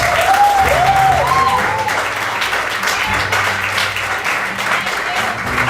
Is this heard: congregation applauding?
yes